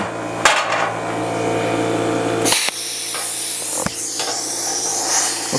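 A Best Arc plasma cutter cutting on 240 volts, loud close hissing arc with sharp clicks and snaps as the torch fires and restarts, the hiss dropping and resuming several times.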